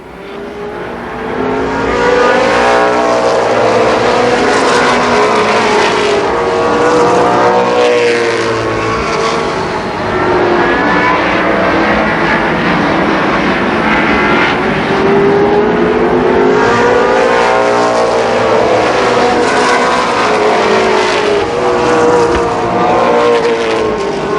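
Race cars circle Columbus Motor Speedway in a 1991 main event, their loud engines droning continuously with repeated rising and falling pitch sweeps as cars pass close by in quick succession, no talk over them.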